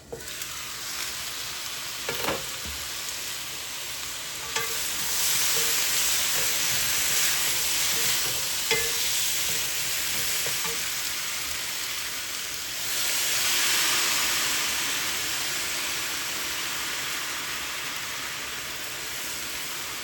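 Squash, shrimp and shiitake stir-fry with light soy sauce over strong heat: a loud, continuous sizzle with occasional scraping clicks of a utensil, and no talk.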